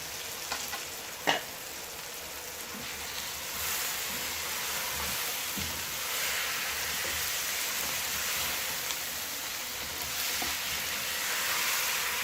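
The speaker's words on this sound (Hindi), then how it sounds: "अब ये चिकन डाल के भून लें" Chicken pieces frying in a pot as the base for biryani give a steady, moderate sizzle that runs without a break, with one brief clatter near the start. No one speaks.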